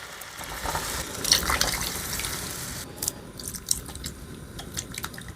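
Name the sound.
pouring three cans of vegetables with their water into pot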